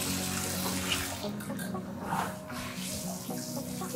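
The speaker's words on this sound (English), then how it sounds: "now we have nice warm water running through the paw washer here" Warm water runs steadily through a dog paw washer during a rescue dog's bath, a continuous close splashing flow with a brief louder surge near the end.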